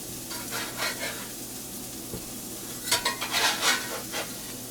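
Blackened salmon sizzling skin-side in a pan, a steady hiss with bursts of louder crackle and spattering near the end, plus a faint utensil clink, close by and without speech.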